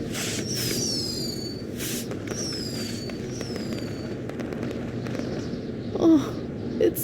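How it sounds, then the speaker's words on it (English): Fireworks burst in the WWE 2K video game, several whistling rockets rising and popping over a steady crackling bed, with a couple of sharper bangs near the end. "we'll get to see some cool fireworks"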